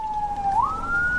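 An ambulance siren passing nearby, a steady tone that rises in pitch partway through, loud and alone with no talk over it.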